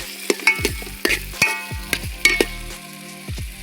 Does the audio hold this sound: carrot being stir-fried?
yes